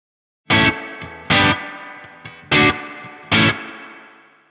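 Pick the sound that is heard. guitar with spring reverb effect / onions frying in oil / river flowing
guitar with spring reverb effect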